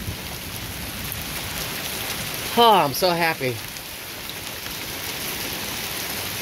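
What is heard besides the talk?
rain falling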